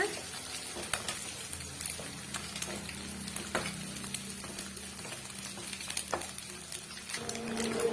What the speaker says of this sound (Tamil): இதெல்லாமே சேர்த்து நல்லா வதக்கி விடுங்க